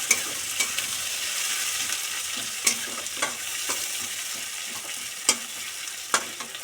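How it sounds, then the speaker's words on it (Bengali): Chopped onions frying in a pan of oil after fish, a soft continuous sizzle broken by light scraping stirs at irregular intervals, close and fairly quiet, with no talk. "পেঁয়াজগুলো ভাজা হোক।"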